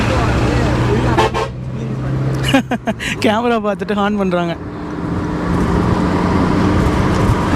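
Lorries rumble past on a mountain road in Ladakh, Pakistan, a steady traffic drone with a brief horn-like tone, while someone talks over the middle of it.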